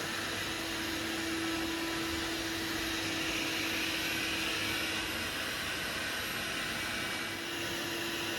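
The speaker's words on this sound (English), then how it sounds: "So the Hobot 298 has finished its first pass doing the dusting." A Hobot 298 window cleaning robot doing a dry dusting pass on glass gives off a steady, loud suction whir with a constant motor hum, unchanging and close throughout.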